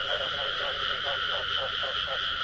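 Frogs croaking at night in Ward 5 while people catch frogs, a steady pulsing chorus of calls repeating about every quarter second, fairly loud and continuous with a buzzing, droning quality.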